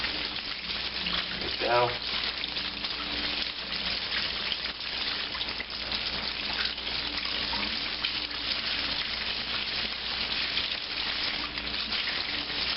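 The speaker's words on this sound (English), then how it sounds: "Rinse out your seeds." A kitchen tap runs steadily while poblano pepper seeds are rinsed out, a continuous watery hiss heard close, with a brief spoken remark partway through.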